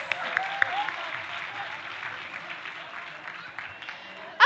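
Audience at a sponsor segment on a conference stage clapping together in a dense, steady round of applause that holds for several seconds before tapering off.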